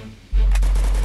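Gunfire in Garena Free Fire: a sudden loud, sustained burst kicks in about a third of a second in and continues heavy and steady to the end, with no talk over it.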